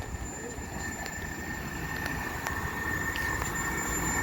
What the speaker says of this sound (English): Passing through now is a Northern service, and it is off to Bower & Furness from Manchester Piccadilly.